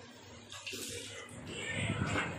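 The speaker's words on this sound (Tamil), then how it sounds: "இப்போ தேவையான அளவு தண்ணியை ஊற்றி நல்லா கொதிக்கிற மாதிரி வச்சு மூடி வச்சுருங்க." Water pours and splashes into a pan of quail gravy being cooked at home, a steady close pour lasting a couple of seconds over low kitchen background noise.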